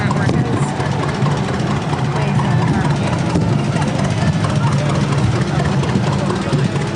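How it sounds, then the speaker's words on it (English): A John Deere tractor engine idles steadily and loudly in a town light-up parade, a continuous low rumble with a broad, noisy outdoor wash over it. "We got another John Deere tractor here."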